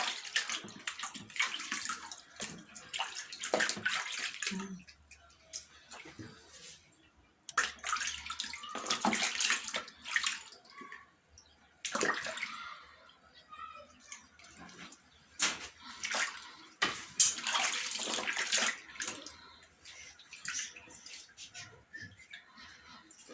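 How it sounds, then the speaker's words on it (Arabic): Hot water running and splashing over food being washed in a kitchen sink, intermittent bursts of close splashing and rinsing with quiet pauses between. "انا لازم اغسلها بميه سخنه مره واتنين وتلاته كده"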